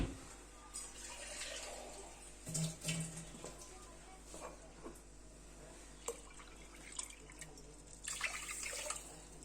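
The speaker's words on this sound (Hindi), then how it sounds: "इसमें 2 कप में पानी के डालूंगी।" Water being poured into a pot to make sugar syrup for pistachio baklava, a faint, uneven trickle and splash with a few louder clinks and drips, heard alone with no talking.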